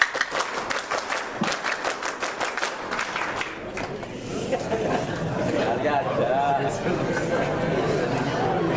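A group of scouts claps in a quick, patterned rhythm for a few seconds at an installation ceremony, then the claps give way to a murmuring crowd and scattered voices.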